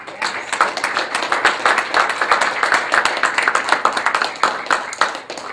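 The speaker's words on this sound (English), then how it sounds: "if we could just get a round of applause for them as well" An audience applauds a committee at an evening gathering, brisk, close clapping from many hands forming a continuous crackle that holds steady throughout and begins to thin at the very end.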